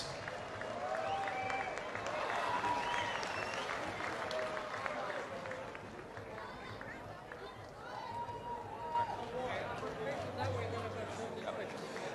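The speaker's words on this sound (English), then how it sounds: "Applause for these two warriors." Applause and cheering from a boxing crowd after a four-round bout, a steady dense wash of clapping and crowd noise throughout, with an announcer's voice over it.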